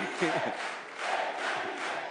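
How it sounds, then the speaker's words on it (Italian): Lawmakers in the French National Assembly applauding and cheering after a vote, a short burst of crowd noise with voices shouting, swelling and dipping in a large chamber. "Applaudono in aula i vincitori politici"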